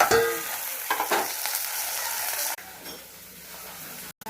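Koi fish frying in oil for a Bengali tel koi dish, being stirred in the pan, a loud close sizzle with scraping strokes that drops to a softer hiss partway through, with no talk.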